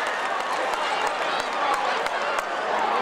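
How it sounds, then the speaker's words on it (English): A comedy show audience, the women called on, claps together in steady, dense applause close by, with crowd voices mixed in throughout. "I want you to clap like you took a pregnancy test this morning."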